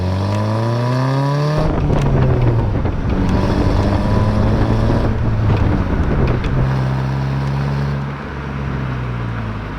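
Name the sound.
manual transmission car pulling away in first gear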